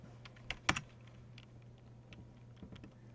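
A few scattered keystrokes tap on a keyboard, soft and close in a quiet room, with one louder clack near the start and a low steady hum underneath.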